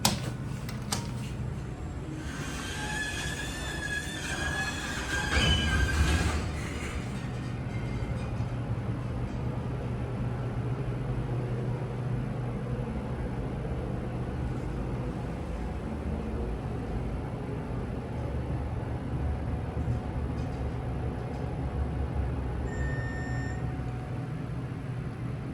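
A huge MEI hydraulic elevator at an IKEA in Houston, Texas, hums steadily inside the cab, with a cluster of bright beeps and a brief thump early on before the low running drone carries on alone.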